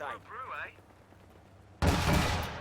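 British sniper rifle fire in the WWII strategy game Company of Heroes 2, a sudden loud, close crack near the end that rings on, following a quiet stretch with a brief voice at the start.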